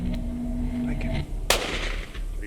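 A single loud rifle shot cracks out during a buffalo hunt in Uganda, sharp and close, followed by a fading rumble, with quiet voices before and after.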